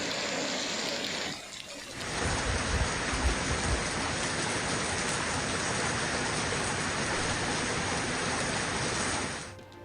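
A heavy downpour in Karachi rises out of a quieter opening into a dense, steady hiss of rain on surfaces, holding constant for several seconds before cutting off abruptly.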